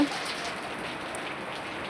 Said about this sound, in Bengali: দেখুন, আপনাদের সঙ্গে কথা বলতে বলতে কত জোরে বৃষ্টি নেমে গেল।